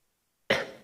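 A man imitates a single sharp cough with his voice: one sudden, fairly loud burst after half a second of silence, fading quickly.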